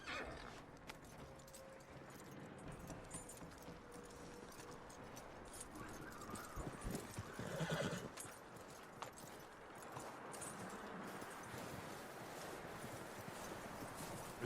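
Horse in the video game Red Dead Redemption 2, with clip-clopping hooves and a whinny amid faint outdoor ambience, a louder burst of movement in the middle.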